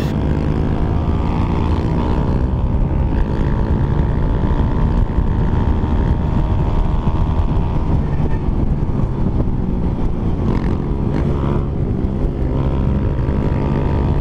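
A stock Suzuki Raider J 115 Fi motorcycle fitted with a power pipe exhaust revs hard, giving a loud, continuous, buzzing engine drone that holds steady and close throughout, with no voices.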